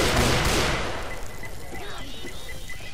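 Gunfire with incendiary rounds in Left 4 Dead 2: a loud burst of shots up front, then a trailing decay with fainter crackles and game effects.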